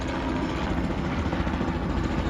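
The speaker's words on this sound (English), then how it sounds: "Helicopter tour." A tour helicopter passes overhead above International Drive in Orlando, a steady loud rotor and engine roar with no break throughout.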